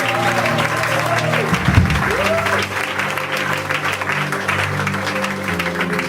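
Sustained applause and cheering from a church congregation, dense steady clapping with voices mixed in and a few musical tones sounding underneath, loud and continuous throughout.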